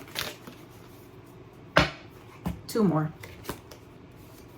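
Tarot cards shuffled and drawn from a deck, a few short riffling and snapping bursts scattered between a woman's calm speech, close and fairly quiet.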